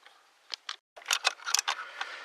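Small metallic clicks and light scraping as a T15 Torx driver snugs down the distributor cap bolts on a Chevy S10 4.3 V6. The sounds are close and faint, coming in short irregular bursts with a brief gap.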